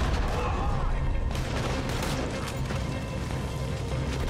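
Gunfire and crashing in Red Dead Redemption 2 as a place is burned down, a dense loud barrage of shots and impacts running continuously throughout.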